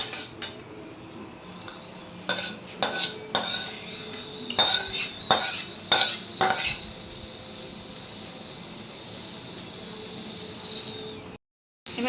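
Metal spoon clinking and scraping against a bowl while mixing coconut chutney in a home kitchen, a series of sharp irregular clinks over a faint high whistle-like tone, no talking.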